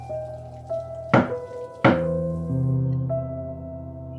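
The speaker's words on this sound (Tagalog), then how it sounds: "nagulat ako nang biglang may kumatok sa pinto." Two slow, heavy knocks on a door land about a second apart, loud and close over a quiet tonal background, with a softer thud trailing later.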